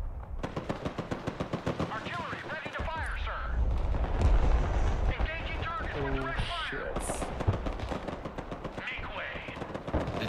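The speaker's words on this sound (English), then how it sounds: "Artillery ready to fire, sir." Rapid bursts of gunfire and booming artillery shots rattle continuously in the video game Broken Arrow, loud and close, with voices talking over the battle noise.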